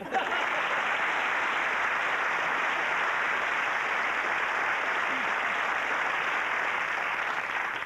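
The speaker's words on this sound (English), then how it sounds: "Not a lot of applause, but there's certainly interest" A studio audience on a 1980s television game show gives steady, even applause for a contestant, a continuous wash of clapping with no voices standing out.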